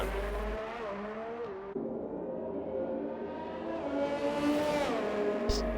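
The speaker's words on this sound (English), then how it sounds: "Love the sound of the cars as they go through that tunnel." Racing cars scream through the Monaco tunnel in a racing video game night race, engines revving and echoing with pitch shifts as they pass, moderately loud and steady, ending with a sharp higher whine.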